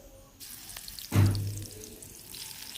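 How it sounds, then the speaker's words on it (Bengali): Whole garam masala, chopped onion and garlic hit hot oil in a Bangladeshi home kitchen, bursting into a sudden loud sizzle that fades into steady crackling, with no talk over it. "তো দুই দিকে বাগার দেওয়া হচ্ছে এখানে গরম মশলা দেওয়া হয়েছে তারপর পেঁয়াজ কুচি রসুন কুচি"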